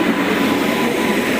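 A passenger train pulls into a railway station in Odisha, a loud steady rumble of rolling wagons and wheels on the track that runs on continuously with no voices over it.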